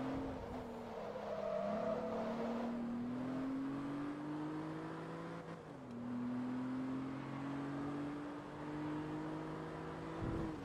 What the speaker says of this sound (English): there's no way a Golf GTI can pull away that quickly